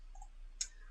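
A single sharp computer mouse click, close and brief, over a quiet low hum.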